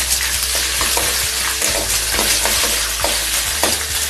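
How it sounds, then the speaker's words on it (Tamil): Ten garlic cloves fry in hot oil in a pan for a green tomato chutney, a steady close sizzle with repeated scraping stirs of a spoon throughout. "இப்போ பூண்டு சேர்த்துக்கலாம், ஒரு பத்து பல் பூண்டு."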